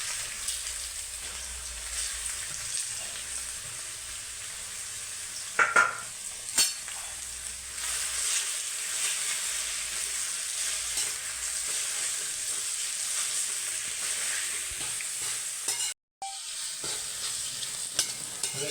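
Bottle gourd with almonds, raisins and cardamom roasting in ghee in a kadai, giving a steady, even sizzle and frying hiss throughout, with a few brief clinks of stirring and a short dropout near the end.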